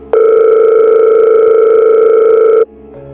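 A steady telephone tone rings out loud and continuous for about two and a half seconds as a call connects, then cuts off abruptly into quiet.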